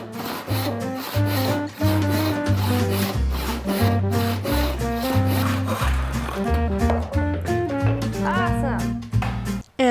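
Wood being cut by hand with a saw for a hand-carved book stand made without power tools. Repeated rasping strokes run under prominent background music.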